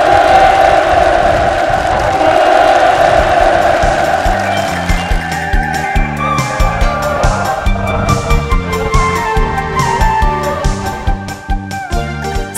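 A large crowd at a housing handover ceremony for new free homes in a rural village applauds and cheers loudly and continuously. Strong clapping and voices are heard first, and rhythmic music-like beats come in later.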